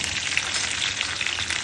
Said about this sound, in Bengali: তেলের মধ্যে দিয়েছি তোমার শুকনো লঙ্কা, জিরে,